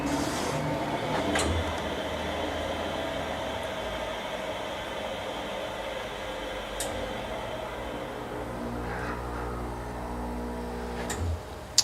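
ERKCO motorcycle wheel balancer running a spin cycle, a steady mechanical whir and hum with sustained tonal drone, a few faint clicks, and a sharp click as it stops, close and without talking.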